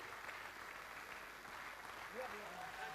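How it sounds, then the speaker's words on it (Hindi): Audience applause at a stage event, heard as a faint, continuous patter of clapping with voices talking over it. "तालियां शानदार।"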